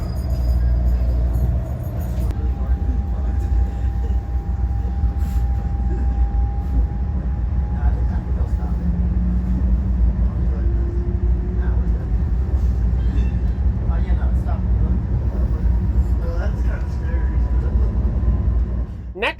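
Steady low rumble aboard an NJ Transit Arrow electric train rolling along, a constant droning ride with faint rising and falling motor whine and occasional rail noise, with no clear talk.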